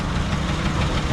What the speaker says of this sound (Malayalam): വള്ളം ഭയങ്കര ഒച്ചയായതുകൊണ്ട് നമുക്ക് കേൾക്കാൻ പറ്റുന്നില്ല